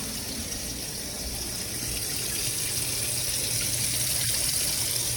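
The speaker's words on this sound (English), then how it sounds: "So I'm just going to pour the water out." Water is poured out of a glass pan to drain it while preparing a Southern-style Thanksgiving dinner, a steady close gushing splash that swells slightly toward the end.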